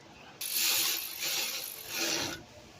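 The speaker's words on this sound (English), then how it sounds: "we're gonna tighten that 10mm bolt" A ratchet with an extension tightens a 10mm bolt on the underside of a 2008 Honda Accord during AC compressor replacement, giving three quick rasping bursts of clicking pawl, close and fairly quiet.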